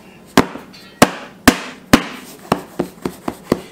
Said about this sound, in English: I'm going to shake it a little bit, bang it, get the air out, and make it even up